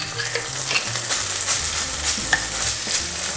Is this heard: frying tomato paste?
yes